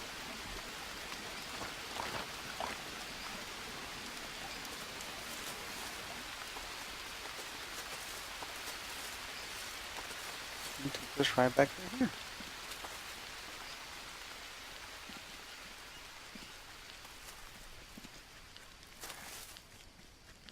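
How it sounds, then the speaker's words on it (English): Steady rain pours in a jungle river setting in the survival game Green Hell, a constant dense hiss throughout with a brief cluster of closer thuds midway and someone speaking briefly. "I love that rain though."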